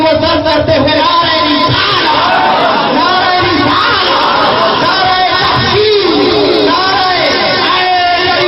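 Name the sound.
crowd chanting the slogan Nara-e-Takbeer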